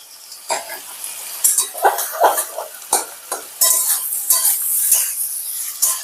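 Ground spice paste sautéing and being stirred in a pan for a prawn fish curry, with irregular scraping strokes, light sizzle and occasional clinks of a utensil against the pan, close up.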